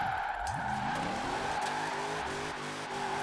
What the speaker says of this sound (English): all you have to do is just sort of hold the handbrake and just slide